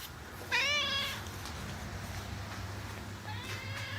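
A cat sitting in a box lets out a loud, clear meow up close, then a second, fainter and shorter meow a few seconds later over a low indoor hum.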